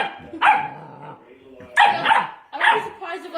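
A puppy barks at a Coke bottle in three sharp, high, yappy bursts with pauses between, close by, while people talk nearby.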